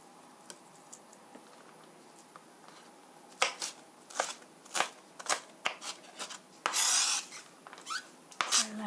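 A knife cuts a long ingredient for penne with tomato sauce in a series of crisp, close slicing strokes after a quiet start, some rapid and rasping, one longer and brighter in the middle.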